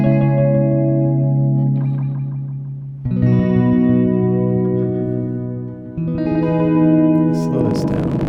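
A JHS Lucky Cat delay pedal with modulation and extra repeats processes sustained electric guitar notes loudly, the chords swelling and shifting with wavering chorus-like modulation and trailing echoes, two new strums around the middle and near the end.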